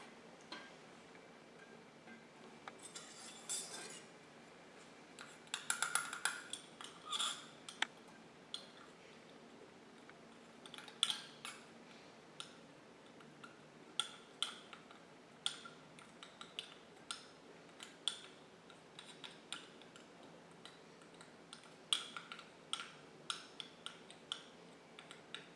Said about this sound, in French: À l'aide de la tige de verre, nous allons agiter.